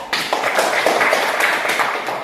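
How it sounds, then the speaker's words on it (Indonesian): Classroom applause for a discussion group during an Indonesian-language lesson, brisk clapping from a small group of people, fairly loud and close, sustained for a couple of seconds. "Tepuk tangan untuk kelompok 3"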